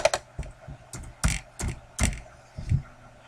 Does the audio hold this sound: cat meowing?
no